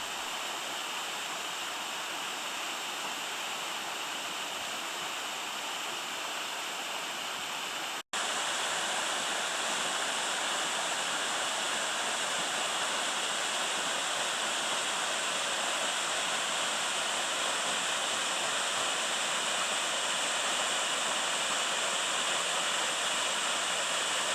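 Whitehorse Falls and its creek pour with a dense, constant roaring rush, loud and unbroken apart from a momentary dropout early on.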